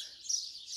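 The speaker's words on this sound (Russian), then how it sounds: "птички поют, я их слушаю" Birds sing in a front garden in May, a thin high chirping that flickers on and off through the short moment, fairly faint with no talk over it.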